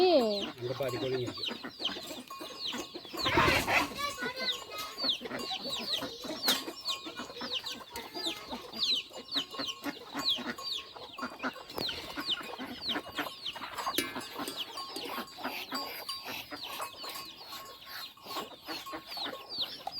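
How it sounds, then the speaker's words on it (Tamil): Busy farmyard with guinea fowl calling and clucking constantly, harsh repeated cries over a steady background chatter, with a brief loud burst near the start. "இந்த கிணி பாரு லொல்லு பண்ணிட்டே இருக்குது"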